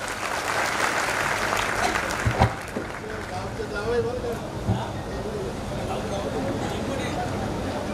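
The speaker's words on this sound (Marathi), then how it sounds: "जयंत वाणी साहेब याच्यासाठी जोरदार टाळ्या झाल्या पाहिजे" Community gathering audience clapping for a guest at a large society convention, continuous dense applause from a crowd, loud and steady for the whole stretch with a few sharper claps standing out.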